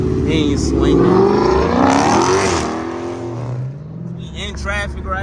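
A Dodge Charger Daytona R/T engine revs loudly from inside the cabin in traffic, a sustained roar that swells and eases over several seconds while people talk over it.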